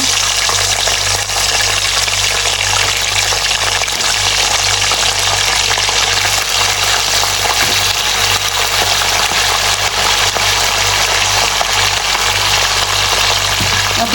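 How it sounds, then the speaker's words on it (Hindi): Chicken pieces fry in oil for a Shinwari karahi, giving off a loud, steady, dense sizzle that holds unbroken throughout, with no talk over it. "अब इसे करेंगे हम 5 मिनट के लिए फ्राई। ऑयल में आपने अच्छे से करना है फ्राई।"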